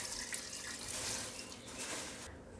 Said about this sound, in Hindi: तो ये मैंने इसके अंदर पानी ऐड कर दिया।